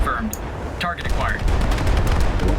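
Guns of the battleship Scharnhorst firing in a naval video game, a dense rumble of booming shots and low explosions running throughout, with brief game sound effects and a voice talking over it.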